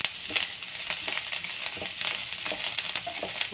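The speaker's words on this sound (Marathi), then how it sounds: "हे आपण चांगलं परतून घेणार आहोत" Mashed eggplant bharta sizzles and fries steadily in a pan, with soft stirring scrapes coming through the constant crackle of hot oil.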